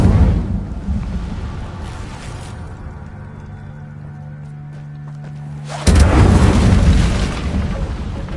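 An Incendio fire spell is cast in the video game Hogwarts Legacy, a loud whooshing burst and roar of flame that erupts suddenly after a quieter stretch with a low hum, then slowly fades.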